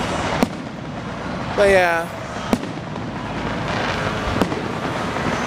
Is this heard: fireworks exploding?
yes